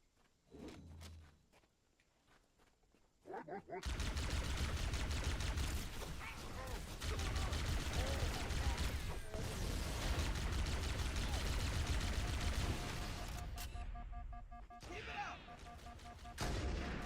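Rapid sniper rifle gunfire in Halo: Combat Evolved, a dense sustained burst of loud shots filling most of the stretch after a quiet start, with brief pauses and game noise between volleys.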